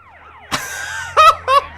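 Ambulance siren in the video game GTA San Andreas: a sharp hit, then a few brief rising and falling electronic wails, loud and close over a low engine hum.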